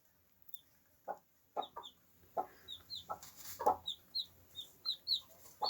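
Hens clucking close by in short repeated bursts, a steady run of soft clucks with a few higher squawks, no talk over them.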